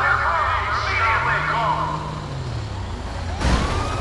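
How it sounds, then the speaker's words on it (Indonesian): A police siren wails in a rising and falling sweep in a modded GTA 5 game, mixed with game engine rumble and background noise, with a sharp burst near the end. "ada bunyi sirine polisi nih"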